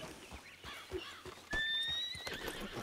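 Horse in the Red Dead Online video game giving a clear whinny with hoof clip-clops on the ground, close and distinct, followed by a brief bright tonal game sound.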